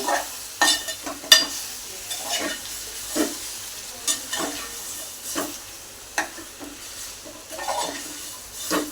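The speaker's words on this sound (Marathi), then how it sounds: "फोडणीमध्ये मिक्स करून घेऊया" Marinated chicken being stirred into a hot spice tempering, with sizzling oil and repeated scraping strokes of a spoon against the pan at an irregular rhythm, close and moderately loud, no talk.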